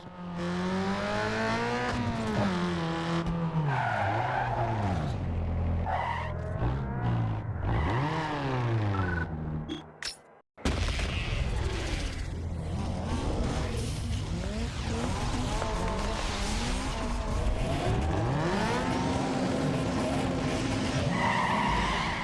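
Toyota Corolla racing in Need for Speed Underground, with a loud, continuous engine roar rising and falling through gear changes, tires squealing and skidding through corners, and a brief cut to near silence midway.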